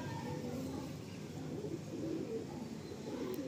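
A Kalsira pigeon coos in a low, repeated murmur held close, in a loft under a steady background hum.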